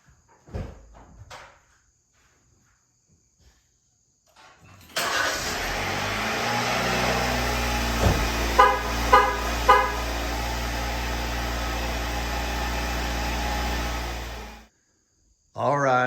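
A Jeep with a 2.0 turbo engine cranks and catches, then idles steadily and loudly for about ten seconds before shutting off, with faint crickets in the quiet beforehand.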